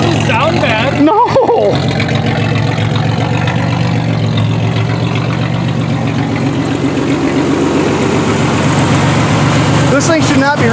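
Rough engine idle of a 1990 Pontiac 6000 factory AWD with a suspected bad fuel pump or stale fuel, a loud steady rumble close by, with people talking over it.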